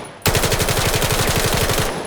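Rapid automatic gunfire from the player's weapon in the shooter game Vail, a loud, evenly spaced burst of about fifteen shots lasting under two seconds, close and alone, then cutting off abruptly.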